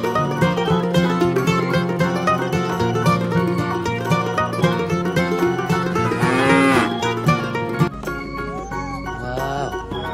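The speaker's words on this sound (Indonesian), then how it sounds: "Ternyata ini ada kerbau." A water buffalo lows loudly and steadily, a drawn-out, strongly harmonic call that fills the whole stretch, with a brief swell near the end.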